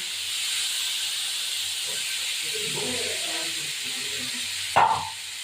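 Small chara pona fish frying in hot oil make a loud, steady hiss, with a sudden sharp sizzling burst near the end as more fish hit the oil. Faint talk sits underneath.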